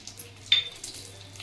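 Magaj seeds, white sesame, poppy seeds and garden cress seeds roast in ghee in a pan for laddoos, giving a soft, steady sizzle with a brief, brighter scrape of stirring in the middle.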